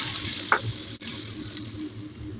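Hot oil poured over steamed fish and spring onion hisses and sizzles steadily and close up, with a brief crackle near the start and a short clack partway through.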